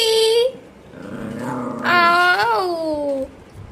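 A pet dog gives close, drawn-out whimpering and whining vocalizations that rise and fall, with low growl-like tones between them over a few seconds.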